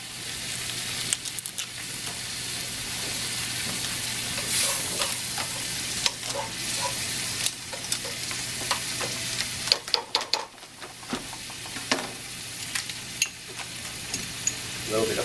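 Lobster américaine base sizzling and frying in a pan as white wine and tomatoes go in, with steady broadband hiss and scattered scraping stir clicks close by, no talking.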